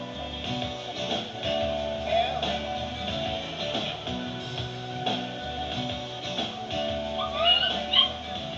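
Rescued puppies, kept in total darkness among their own droppings, whimper and yip in a steady stream of small cries with a few brief yelps, fairly close and without talk.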